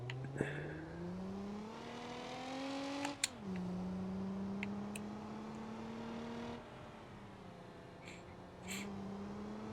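A car in the driving game BeamNG drives past, its engine whine climbing, dipping and rising again in smooth pitch sweeps, fairly quiet, with a couple of sharp clicks partway through.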